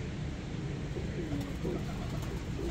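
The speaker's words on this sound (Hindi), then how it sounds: "ये जी मेरे घर निकला हुआ कबूतर है" Pigeon cooing in a home loft, soft low coos repeating irregularly over steady background noise, fairly close.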